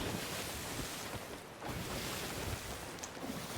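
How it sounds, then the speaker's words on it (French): Large ocean waves in a pirate ship video game, a constant rushing surf and wind wash, fairly faint and unbroken, with no talk. "il y a des grandes vagues, donc on voit pas"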